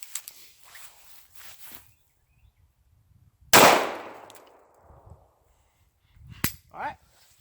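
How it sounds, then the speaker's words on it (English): A single loud, sharp 9mm gunshot striking the back of a Master Lock combination padlock outdoors, with a long decaying ring after it and quiet voices and small clicks before and after. "we're going to start out with a 9mm again. I think the 9mm is going to do it. We're going to shoot it in the back."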